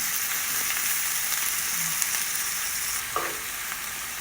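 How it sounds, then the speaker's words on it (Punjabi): Sliced onions browning in a frying pan, a steady, even hiss of oil that fills the clip, close and moderately loud, with a faint scrape near the end and no voices. "ਪਿਆਜ਼ ਵੀ ਆਪਾਂ ਬਰਾਊਨ ਕਰਾਂਗੇ ਇਹ ਵੀ ਪੂਰੇ ਬਰਾਊਨ ਕਰ ਲਾਂਗੇ"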